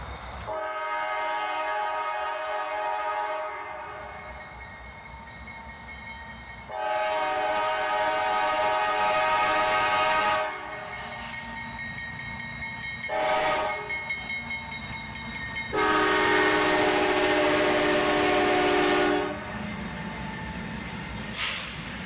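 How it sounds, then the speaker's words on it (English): A CSX manifest freight train led by three locomotives, a CM44AC rebuild, an ES40DC and an SD40-3, sounds its horn in several long, loud blasts with short gaps over steady rolling rail noise, no voices. "Three locomotives on this manifest train."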